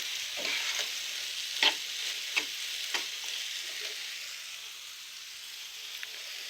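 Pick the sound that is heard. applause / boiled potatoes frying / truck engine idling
boiled potatoes frying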